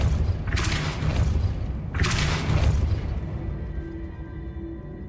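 A Depulso spell cast in the Hogwarts Legacy video game, heard as two heavy booming bursts about a second and a half apart over a low rumbling game soundscape.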